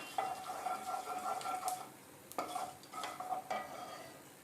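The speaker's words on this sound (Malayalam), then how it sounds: "പിന്നെ നല്ല ജീരകം ഇത്രയും ചേർത്ത് നന്നായിട്ട് അതിൻ്റെ സ്മെല്ല് വരുന്നിടം വരെ നമുക്കൊന്ന് വഴറ്റിയെടുക്കാം." Cumin seeds sautéing in a pan for raw mango chutney, a soft steady sizzle with a few stirring scrapes, close and moderately quiet, with no voices.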